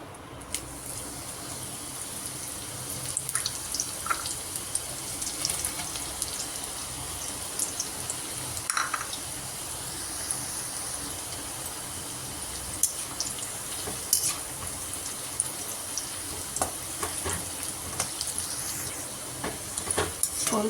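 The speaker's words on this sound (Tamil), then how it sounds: "இந்த சப்பாத்தியை பொரித்து எடுக்கணும்." Chapathi fries in hot oil in a deep pan, giving a soft, steady sizzling hiss scattered with small crackles and pops throughout.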